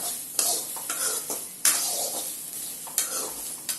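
Okra is stir-fried in a pan for vendakkai poriyal, a continuous bright sizzle broken by scraping stirs and a few sharp clinks of a utensil against the pan, close and without talk.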